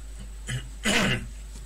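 A single close throat clearing, a short gruff rasp preceded by a softer small cough-like sound, alone in a quiet room.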